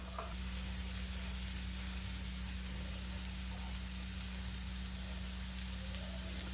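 A stuffed chapati sizzles on a hot pan as it is flipped to brown on both sides, a steady close frying hiss with a constant low hum beneath it.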